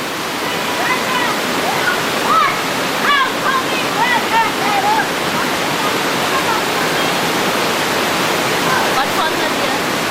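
Victoria Falls on Dominica, reached on a hiking trail, sends out a steady, loud roar of falling water that fills the whole stretch, with a few voices faintly audible above it.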